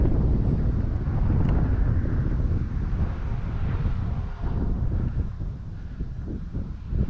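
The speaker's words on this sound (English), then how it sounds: "Wind is not being friendly to her at all." Strong, gusty wind buffets the microphone at an RC glider flying field where a Tower Hobbies ASW 28 is being flown, a constant loud rumbling roar that fills the whole stretch.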